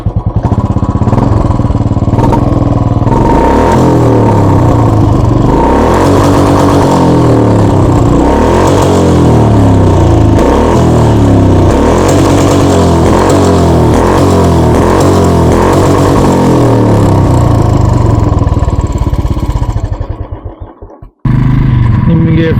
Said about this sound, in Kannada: ಎಕ್ಸಾಸ್ಟ್ ನೋಟ್ ಕೇಳಿಸ್ಕೊಳ್ಳಿ